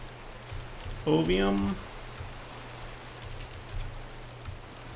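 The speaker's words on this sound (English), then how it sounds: "Alright, it's raining, but we'll make this happen." Steady rain falling in a video game, a soft continuous hiss with a low hum, running under a brief spoken word.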